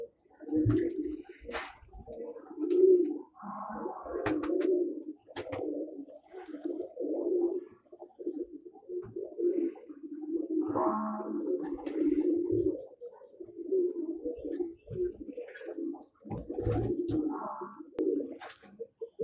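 Pigeons coo in a series of low, throaty bursts that come and go over the whole stretch, close and fairly loud, with a few sharp wing flaps and knocks between them and little speech.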